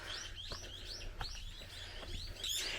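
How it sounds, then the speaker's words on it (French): Small birds chirp and tweet on Kohama Island near Ishigaki, Japan, a string of quick rising calls repeating every half second or so, faint and fairly distant over a low steady background hum. "Avec ces bruits d'oiseaux là."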